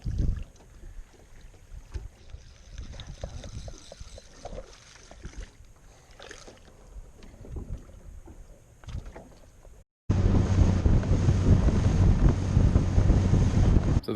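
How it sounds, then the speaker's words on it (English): Breeze gusting across the open water of Castaic Lake around a fishing boat, a soft uneven rush of wind against the microphone that turns into a louder steady roar of wind near the end. "A little bit of a breeze here."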